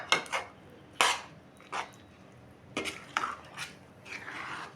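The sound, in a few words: mixing tomato pickle in a pot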